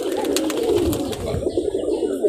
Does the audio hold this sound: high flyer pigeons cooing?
yes